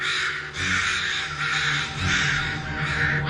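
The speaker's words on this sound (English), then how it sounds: "The crows seem to wail and scold her and the dead bird." A flock of crows erupting in alarm and scolding around a person holding a dead, taxidermied crow; loud, dense, overlapping caws in repeated bursts fill the whole stretch.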